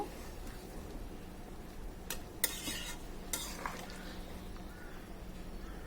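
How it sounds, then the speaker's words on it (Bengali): Hilsa fish pieces stirred into a pan of pumpkin curry with a spatula, giving soft scraping and a light sizzle, with a few sharp metal clinks in the middle and a steady low hum underneath. "যে কষিয়ে রেখেছিলাম মাছগুলো সেটা এর মধ্যে এখন আমরা এটা দিয়ে দিব। দিয়ে দিলাম। দিয়ে হালকা একটু নেড়ে দিব।"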